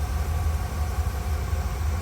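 A 1997 Ford Econoline E-150 van's 5.4L two-valve V8 idles hot in drive, a steady low rumbling drone close up with no breaks.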